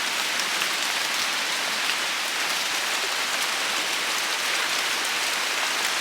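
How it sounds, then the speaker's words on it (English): Steady afternoon rain falling on a jungle shelter, a dense continuous hiss of drops with no pauses, close and fairly loud. "Comes the afternoon rain."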